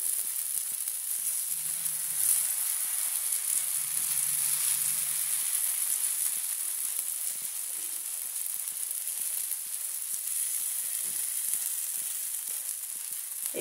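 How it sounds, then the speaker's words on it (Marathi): A besan and tomato omelette fries in a pan with a steady, bright sizzle that holds evenly throughout, close and moderately loud, with a few faint low bumps and no talking. "एक साइडने छान भाजून घेऊ आपण, थोडासा लाल रंग येईपर्यंत।"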